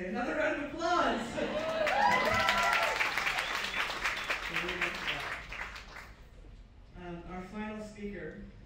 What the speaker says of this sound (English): I'm just gonna say another round of applause.